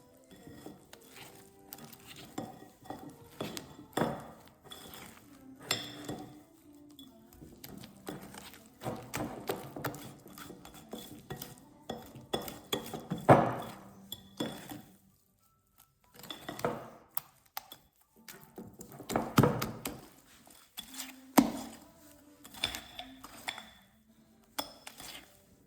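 Eggs being stirred in a bowl for Belgian crepe batter, with repeated clinking and scraping strokes of a utensil against the bowl, loud and close, coming in bursts with short pauses.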